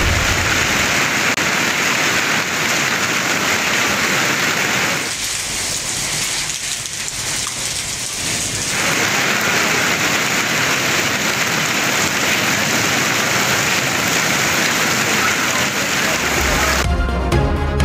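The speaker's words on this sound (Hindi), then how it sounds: "सियालकोट की तहसील डस्का में बारिश और शदीद यालाबारी" Steady rain falls in Daska, a tehsil of Sialkot, during heavy winter weather, a dense continuous hiss that fills the scene at constant loudness, dipping briefly midway, with no voices.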